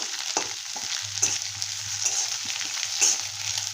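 Onion fries in a pan for fried rice made from leftover rice, giving a moderate hissing sizzle under repeated scraping stirs and occasional clinks against the pan, with a low hum in the background.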